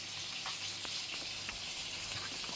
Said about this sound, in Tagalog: Ang dinner namin ay niluluto ko na.